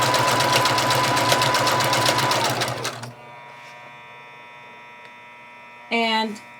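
A sewing machine stitches junk journal pages in a fast, even mechanical rattle for about three seconds, stops, then gives one short whirring burst after a quiet pause.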